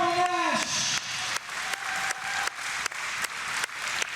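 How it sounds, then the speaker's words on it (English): A hall of fame ceremony audience claps for inductees, a soft, distant ripple of applause that goes on steadily after a brief spoken line near the start. "How about a round of applause for all our inductees this year?"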